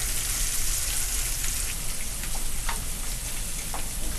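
Shrimp cakes sizzle steadily in a hot frying pan just after being flipped, a dense, even crackle of oil with scattered small pops throughout, close and constant with no talking.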